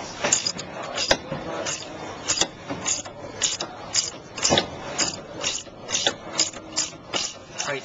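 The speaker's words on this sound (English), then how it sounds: "you need to loosen the nut with the wrench" A wrench clicks steadily while loosening the nut on a car's sway bar link, producing a brisk series of close ratcheting ticks, roughly a dozen spread evenly over several seconds with no voices.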